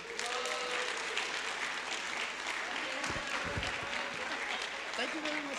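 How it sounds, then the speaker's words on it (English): Audience applause at a forum in Manila, a dense, steady wash of clapping filling the whole stretch, with a voice talking faintly underneath. "So give a big applause for Stuart Abalos James Allen."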